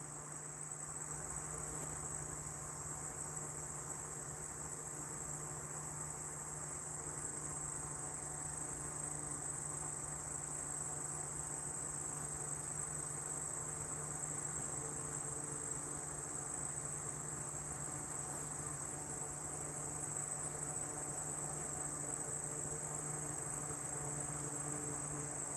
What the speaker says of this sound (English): that keen of the insects